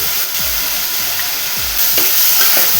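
Ginger garlic paste is stirred into hot oil in a pot while cooking Konkani-style mutton rassa. A loud, steady sizzle hisses throughout, with several dull scraping strokes of a spoon at a regular pace and no talk.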